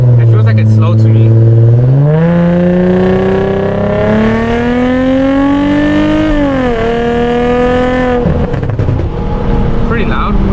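A tuned 2006 Infiniti G35 coupe engine revs loud and close beside a cement wall, its pitch climbing, holding high, then dropping back in one sustained throttle blip.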